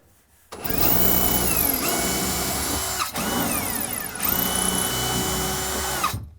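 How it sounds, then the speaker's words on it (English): A power drill whines loudly and steadily, its pitch dipping and rising as it bites into a wooden cabinet, with a couple of brief pauses between runs. "Drill, nice and straight, just a little bit."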